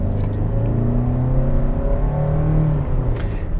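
A Toyota Sienna Hybrid minivan accelerating, with a smooth rising engine and electric-motor whir heard steadily from inside the cabin, moderately loud with no talk.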